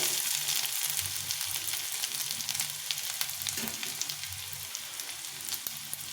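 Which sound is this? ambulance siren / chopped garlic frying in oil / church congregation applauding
chopped garlic frying in oil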